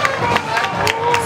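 A crowd claps loudly, a dense burst of applause mixed with cheering and speech.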